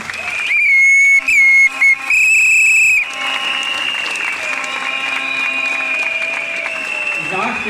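A crowd at an outdoor environmental protest against lithium mining claps while loud piercing whistles blow in bursts over it, the applause forming a continuous backdrop beneath the shrill tones.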